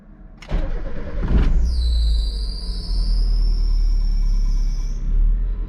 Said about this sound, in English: So anyway, let's get this car started up.